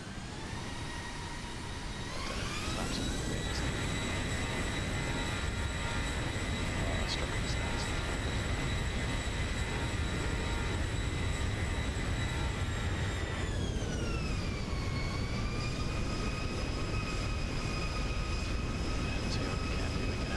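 A Zibo Boeing 737-800 taxies in a flight simulator game, its engines giving a steady, loud whine with sustained tones that rise early on and dip partway through, continuous throughout.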